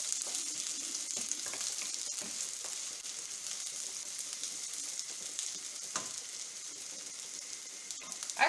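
Onions fry in a pan for a Basque piperade, giving a steady bright sizzle throughout with occasional soft crackles and stirring taps, no voices.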